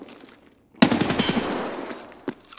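Sudden loud burst of gunfire in Escape From Tarkov, a rapid volley of shots that starts abruptly after near silence and rings out for over a second, followed by a fainter single impact.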